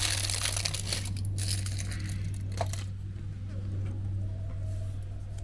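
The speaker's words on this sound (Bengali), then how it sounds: "এখানে একটা অ্যালুমিনিয়াম ফয়েল আমি নিয়ে নিয়েছি, এইবার এটার উপর বন্ধ করে দেব।" Aluminium foil crinkled and pressed over kulfi moulds for malai kulfi, giving a close, continuous crackling rustle over a steady low hum, with one sharper crunch partway through.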